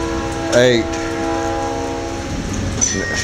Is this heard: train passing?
yes